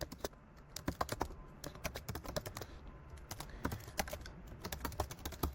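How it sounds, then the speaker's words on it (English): Rapid, uneven keystrokes on a computer keyboard as an email address is typed, a steady run of close, crisp clicks with brief pauses and no talking. "Let's sign up as type in your email."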